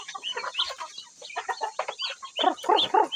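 Native chickens clucking in a rural yard, a close, continuous chorus of overlapping clucks and squawks, busiest toward the end.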